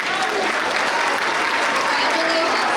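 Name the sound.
audience applause at school awards ceremony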